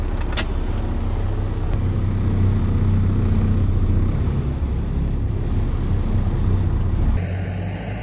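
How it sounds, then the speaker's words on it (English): A farm truck with diff lock engaged rumbles low and steady as it drives forward at a bale operation, the engine drone continuous and close, easing off near the end. "I will go ahead and move the truck up for Rob"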